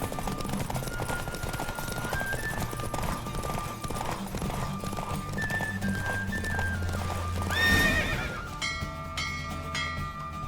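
Horse hooves pound at a gallop through a horse race in The Witcher 3 video game, a steady drumming rhythm over game music, rising to a louder swell near the finish.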